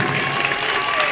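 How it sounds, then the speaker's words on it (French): Pupils at a school flag-raising ceremony applaud their teachers, a dense, steady burst of many hands clapping at close range that fills the whole moment. "Je voudrais aussi demander aux élèves d'applaudir pour les enseignants"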